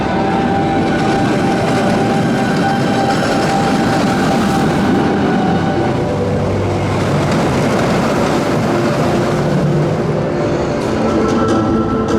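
Loud continuous rumble and roar of the Colossus roller coaster train at Thorpe Park running along its track, with rattling and clacking throughout, close by.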